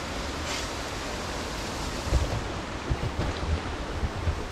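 Fast-flowing water rushes near Taytay Falls in Majayjay, Laguna, a constant broad roar with a few low thumps of splashing or handling near the end and no clear talking.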